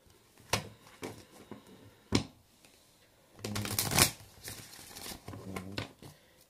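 Romance Angels oracle cards being shuffled by hand, a few quick riffles and slides early on, then a longer louder burst of shuffling, close and crisp with soft card taps.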